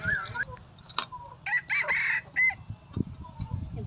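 A chicken brought in for caponizing clucks and squawks at close range, giving short bursts and one louder drawn-out crow-like call, with faint handling noise and low voices in the background.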